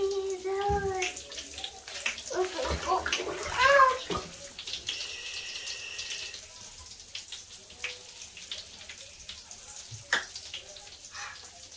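Water running from a tap into a bathtub before a child's shower, a faint steady hiss under high-pitched children's chatter and squeals, with a few brief knocks and splashes.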